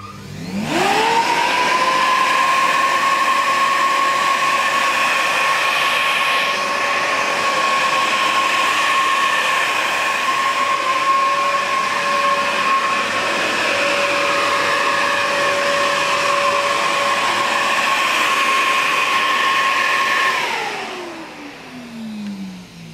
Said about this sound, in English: it has a soft start motor, so it'll start off slow and then it'll suddenly ramp up to full speed.